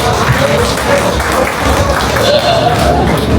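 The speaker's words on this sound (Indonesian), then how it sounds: "Aplaus" Applause from a crowd at a high school class reunion gathering by a poolside lounge on Akkarena Beach in Makassar, a steady dense wash of clapping lasting a few seconds with chatter and voices mixed underneath.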